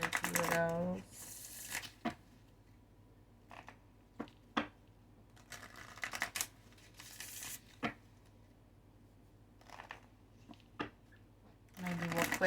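Oracle cards being handled and shuffled close by, papery riffles and flicks in several short bursts separated by quiet gaps, with brief talking at the start and end.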